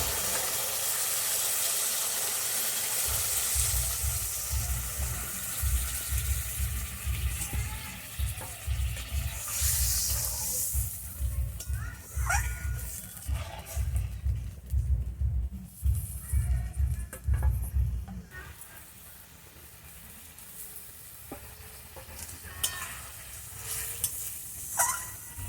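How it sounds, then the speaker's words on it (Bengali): Water goes into a spice paste sizzling in oil while cooking posto bora dom. A loud hissing burst comes first, then rhythmic stirring scrapes under steady sizzle, easing into a quieter simmer with no talking. "মশলা থেকে এই যে তেল ছেড়ে দিয়েছে। আমি একটু সামান্য জল দেবো,"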